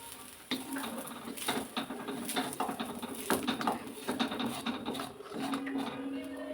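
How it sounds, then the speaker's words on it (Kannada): Onion, green chilli and garlic frying in oil in a pan for curry leaf chutney, a steady close sizzle with stirring scrapes and light clinks of a spoon against the pan throughout. "ಈರುಳ್ಳಿ, ಹಸಿಮೆಣಸಿನಕಾಯಿ, ಬೆಳ್ಳುಳ್ಳಿ ಎಲ್ಲನೂ ಚೆನ್ನಾಗಿ ಫ್ರೈ ಆಗಿದೆ"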